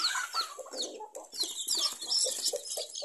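Native ayam kampung chicks in a brooder box peep and chirp continuously, many high, busy calls overlapping close by and fairly faint.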